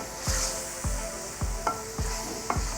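Chicken, potato and mince being stirred with masala in a pot, five rhythmic scraping strokes of a spoon over a continuous gentle sizzle, close and moderately quiet.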